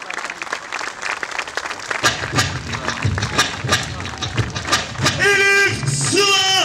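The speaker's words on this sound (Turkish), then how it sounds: "Alkışlar hiç dinmiyor." Sustained audience applause at a Turkish women's handball Super League championship celebration, loud and continuous with scattered sharp claps, crowd noise and an announcer's voice running over it.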